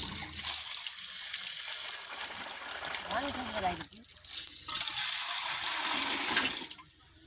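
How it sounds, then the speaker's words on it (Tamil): At a village well, water is poured and splashes while something is washed, producing loud gushing that drops out briefly near the middle and then returns. "தண்ணி ஊற்றி கழுவும்"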